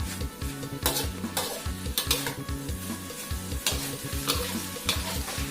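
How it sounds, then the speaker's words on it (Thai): Chicken with holy basil stir-fries until dry, a loud, up-close sizzle driven by a fast, regular rhythm of spatula scraping and clanking in the pan, with no voices. "ผัดลงไปจนแห้งครับ ใบกะเพราสุกจนแห้งก็เป็นอันใช้ได้ครับ"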